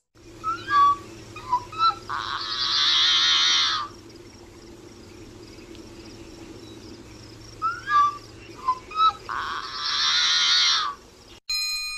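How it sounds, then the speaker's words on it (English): Yellow-headed blackbird near Lake Tahoe giving two rounds of its song, each a run of short clicky notes leading into a loud, harsh, grating buzz, close and clear over a faint hum. "mine is the yellow-headed blackbird"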